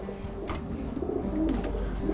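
A Scottish checker cock pigeon coos in soft, low repeated calls, close by, with a few faint flutters or knocks between them.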